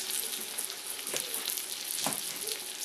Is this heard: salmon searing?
yes